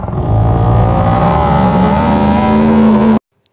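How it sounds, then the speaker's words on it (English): Growling orb sound effect built from processed, pitched-down mouth sounds: a low, sustained engine-like snarl that slowly rises in pitch, then cuts off abruptly into silence. "Finally, we have the growling sound of the orb,"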